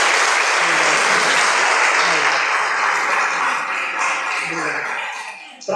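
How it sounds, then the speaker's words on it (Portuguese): A church congregation applauds loudly and steadily, a dense wash of clapping that fills the room for several seconds before tapering off at the end. "Vamos aplaudir ao Senhor."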